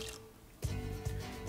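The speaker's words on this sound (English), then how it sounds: "I need 1/4 cup of balsamic vinegar." A quarter cup of balsamic vinegar poured into a blender for a pork belly sauce, a brief close liquid drip and dribble that swells into a short steady pour.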